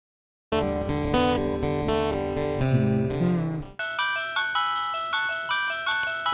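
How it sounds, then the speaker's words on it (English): A phone ringtone starts abruptly after a brief silence, playing a loud, bright electronic melody of chiming notes that shifts into a repeating pattern of pulsing tones, with no voices. "This ringtone's gonna be stuck in my head now."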